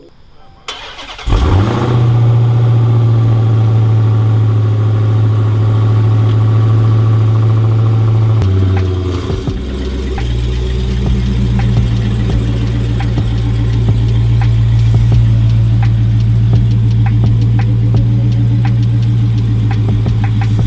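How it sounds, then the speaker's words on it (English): A 2022 wide body Dodge Charger cold starts on its stock exhaust, cranking and firing up, then settling into a loud, steady idle with a deep exhaust rumble, briefly dipping before resuming a rough, throaty idle. "this is gonna be the last cold start for that stock exhaust, so let me start it up"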